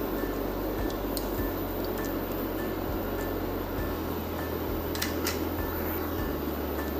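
Water is being stirred into cooking masala in a pot, a continuous wet churning and sloshing with soft scraping over a steady low hum, close and fairly quiet, with no talking.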